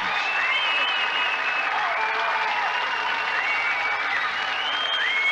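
An audience at the 1979 Britain's Strongest Man contest in Woking applauds a strongman's lift of just under a ton carried on his back, with dense, steady clapping that continues throughout.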